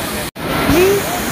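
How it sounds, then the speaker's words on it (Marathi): Steady broadband roar of a small waterfall at Thoseghar, close and continuous throughout, briefly cut by a dropout, with a rising whistle-like tone partway through. "हे बघा हा छोटा धबधबा होता मित्रांनो."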